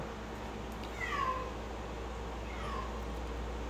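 A cat gives two soft meows about a second and a half apart over a quiet, low background hum.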